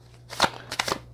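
Tarot cards shuffled by hand, a couple of quick riffling bursts, close and crisp, over a faint low hum.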